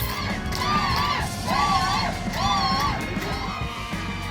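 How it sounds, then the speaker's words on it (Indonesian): Spectators lining the riverbank at the Mesuji river rowing festival cheer and shout in rising, repeated swells, with high excited voices whooping over a broad crowd roar. "Sorakan penonton menggema di sepanjang tepian sungai"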